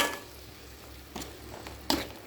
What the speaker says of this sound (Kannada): ಚೆನ್ನಾಗಿ ಸ್ವಲ್ಪ ಹೊತ್ತು ಫ್ರೈ ಆಗಬೇಕು